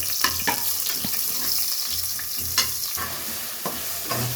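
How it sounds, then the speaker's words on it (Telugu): Onions frying with cloves, bay leaf, peppercorns, cinnamon and marathi moggu in hot oil in a pan for mutton curry, a steady close sizzle broken by repeated scraping stirs, with no talk. "లవంగం, ఆకు, మిరియాలు, చెక్క, మరాఠీ మొగ్గ అన్నీ వేగాక ఆనియన్స్ వేసుకున్నామండి"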